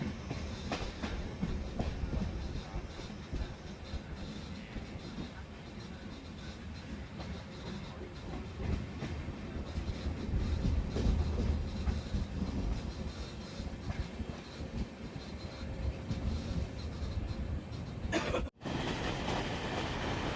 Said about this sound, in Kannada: ನಮ್ಮ ಟ್ರೈನ್ ಈಗ ಎಂಟ್ರಿ ಆಗ್ತಿದೆ ಬಿಡದಿ ರೈಲ್ವೆ ಸ್ಟೇಷನ್ಗೆ